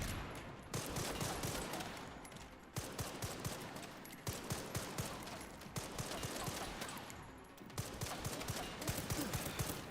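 Sustained automatic gunfire in the survival-horror game Resident Evil Requiem, dense rapid shots rolling on for ten seconds with brief gaps, heard faint and distant throughout.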